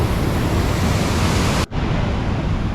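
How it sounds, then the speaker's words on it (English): Waterfall fed by snow melt in Glacier National Park pouring down, a loud, steady broadband rush of water with wind buffeting the microphone, briefly cut by a short dropout before the roar resumes. "get a better view of the waterfall flowing down. So there's a good amount of water coming down"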